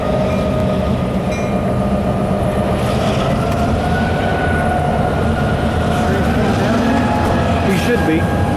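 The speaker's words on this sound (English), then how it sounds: "we then saw a CSX coal train and caught it as it entered Parsons Yard." A CSX coal train rolls into a rail yard, a steady, loud rumble of railcars and wheels on track with faint squealing tones throughout, continuous and close, with people speaking underneath.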